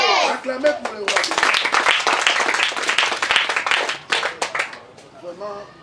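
A church congregation claps and cheers in a dense burst of applause, with a voice calling out over it at the start and trailing off toward the end.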